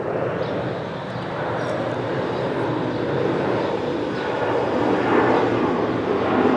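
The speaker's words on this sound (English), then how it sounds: "I'm going to have to put up with the aeroplanes coming in" Aeroplanes on approach to an airport about seven miles away, passing overhead on the flight path, a continuous broad jet roar that swells slightly toward the end.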